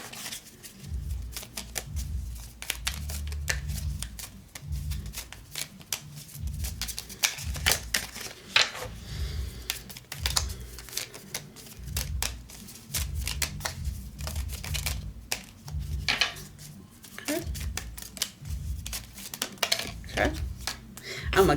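Tarot cards shuffled and dealt out one by one, a steady run of soft papery riffles and flicks with low background hum, no voice over the handling.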